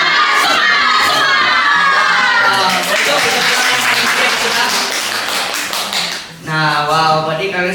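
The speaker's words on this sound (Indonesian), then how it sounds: "kita akan berlompat bareng selama 3 kali dan berteriak semangat" A group of children at an MC school event in Surabaya jump together three times and shout a loud, sustained cheer, crowd voices filling the whole stretch with stomping thuds underneath and a brief dip before a renewed burst of shouting.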